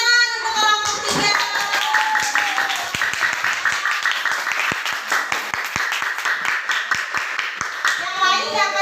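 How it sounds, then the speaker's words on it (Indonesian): A class of schoolchildren claps for a student group, dense, sustained hand clapping filling the room with scattered sharper claps, a few children's voices audible at the start and end. "Ya, tepuk tangan untuk kelompok 3."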